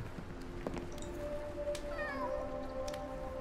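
A cat meows in the video game Sherlock Holmes The Awakened, a few short rising tonal calls standing out over a steady low ambient hum, fairly faint and with no talk over them.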